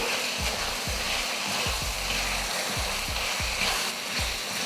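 Half a kilo of chicken pieces frying with masala in oil for a curry, giving a soft, continuous sizzle with repeated scraping, stirring knocks as the pieces are turned over.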